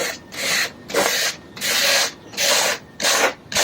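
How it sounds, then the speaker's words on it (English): Sandpaper of medium grain rubbed by hand over a wooden box, back-and-forth strokes of raspy friction in an even rhythm, about six passes, close and loud with short pauses between strokes. "So if I'm going to sand this lightly, I go with the grain."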